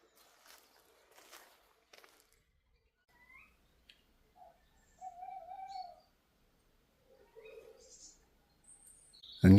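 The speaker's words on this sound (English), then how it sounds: "And yes, that is owls that you can hear." Owls hoot in daytime, short, faint calls spaced out against a quiet background with scattered small clicks and knocks, ending in a sudden loud thump.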